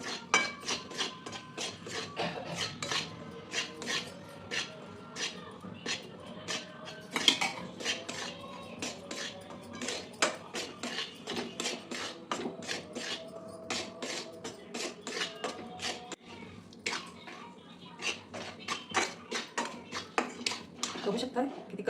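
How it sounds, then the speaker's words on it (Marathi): Wheat flour roasts in ghee in a pan as a utensil stirs it, giving a busy run of rapid metallic scrapes and clinks against the pan that continues throughout, with a voice heard intermittently. "आता या तुपामध्ये आपण हे गव्हाचं पीठ भाजून घ्यायचं आहे."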